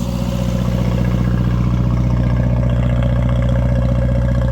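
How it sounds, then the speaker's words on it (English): Onan DJC diesel generator running steadily under a load bank drawing close to 11 kilowatts, a loud, continuous low engine drone with mechanical clatter and no talk. "Let's go check out the dirty diesel now."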